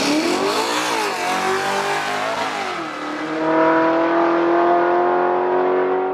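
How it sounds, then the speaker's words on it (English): The 700 horsepower Crusher Camaro's engine, tuned through a Holley Dominator computer, revs hard and bounces against the rev limiter, a loud close roar that rises, dips and then holds high, with no talking. "Same problem, bumping up against the rev limiter."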